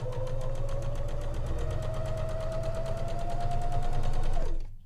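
A sewing machine runs a long base stitch along the top of a fabric ruffle, a close, steady rapid mechanical chatter with a humming motor tone, holding pace for several seconds before winding down and stopping.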